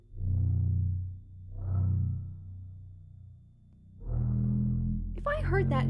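A reconstructed Tyrannosaurus rex vocalization: deep, rumbling, closed-mouth booms in three long swelling pulses, the last sustained as a voice briefly cuts in near the end.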